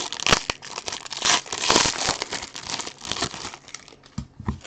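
Foil wrapping on a pack of trading cards crinkles and tears open, with continuous close, loud rustling and crumpling throughout.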